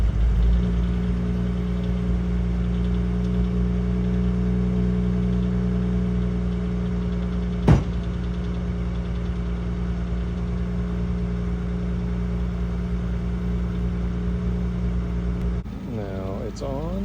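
A Mazda car engine idling steadily after start-up as it warms, a continuous low hum with a single sharp click partway through and a brief shift near the end, heard alone without talk.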